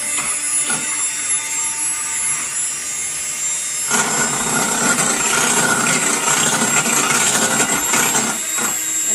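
An electric hand mixer whips liquid cream, whirring quietly at first and then jumping to a louder, busier buzz about four seconds in after the speed is raised, with no talk over it.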